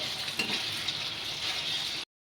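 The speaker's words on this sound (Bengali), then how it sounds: "চিকেনটা লাল লাল করে ভাজা হচ্ছে" Chicken frying in a wok, a soft continuous hiss of hot oil, fairly quiet and even, that cuts off abruptly near the end.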